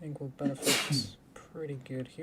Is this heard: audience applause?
no